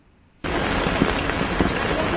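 Steady rain falls on a morning in Srinagar, a dense, even hiss of drops on surfaces that starts abruptly after a brief quiet moment and continues without a break, close and moderately loud.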